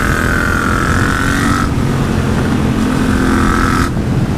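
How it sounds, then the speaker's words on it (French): A Yamaha MT-07 motorcycle fitted with a cheap aftermarket exhaust and a homemade dB killer runs loud and close, with a steady engine drone that shifts pitch twice as the throttle changes, and no talking. "Aussi la moto pétarade encore plus qu'avant."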